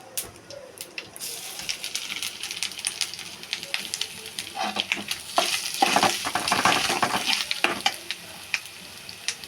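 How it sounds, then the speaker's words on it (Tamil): Grated coconut roasting in coconut oil sizzles and crackles in a pan, with frequent scraping stir strokes that build louder toward the middle and end, close and steady without any talk. "தேங்காயை நல்லா வறுத்துக்கிறோம்"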